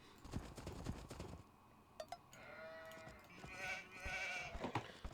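Sheep bleating over a busy Age of Empires II game soundscape, with clopping footsteps and background ambience, fairly quiet and continuous.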